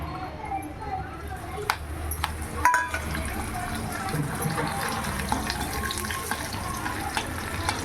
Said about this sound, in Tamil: வடகம் தாளித்து கொட்ட போகிறோம்